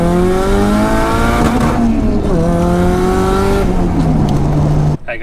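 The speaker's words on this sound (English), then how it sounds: "This is my SR20 C33 Laurel" A Nissan C33 Laurel with an SR20 engine drives hard, its loud continuous engine note rising and falling through gear changes with a faint tire squeal, heard close up before cutting off abruptly.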